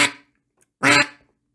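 Double-reed polycarbonate duck call, two short, raspy quacks close to the listener. The first fades quickly, and the second, stronger one follows after a pause of about half a second.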